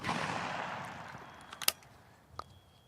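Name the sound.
Browning Cynergy over/under trap shotgun firing Federal 12 gauge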